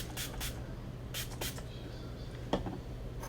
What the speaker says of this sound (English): First I'm going to spray it with the setting spray.